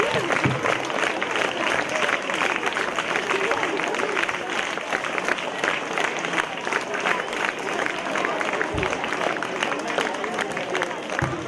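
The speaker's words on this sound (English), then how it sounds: "Students, can I clap?" Students at a school literary club fest clap together in a large hall; continuous, dense, loud applause with crowd murmur mixed in, holding steady throughout with occasional louder thumps near the end.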